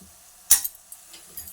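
Crushed garlic, cumin and green chili paste hitting fried onions in a pan for tomato curry, giving one sharp, brief sizzle burst followed by faint crackles.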